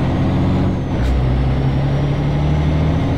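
A truck in Euro Truck Simulator 2 drones with a steady, loud engine roar. A short air brake hiss cuts in about a second in, then the engine hum carries on.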